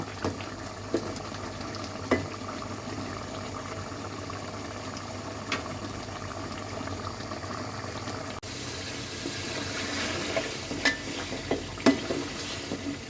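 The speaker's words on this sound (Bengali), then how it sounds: "ভালো করে কষিয়ে নেব" Duck meat sizzles and bubbles quietly in a pan, punctuated by occasional clinks and scrapes of stirring over a long stretch.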